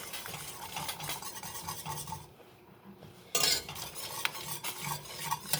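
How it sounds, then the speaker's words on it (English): Whisk scraping and stirring through a thick homemade paint mixture in a bowl, a steady gritty swishing with a brief pause before the strokes resume close up, no talking. "I'm going to whisk it all together."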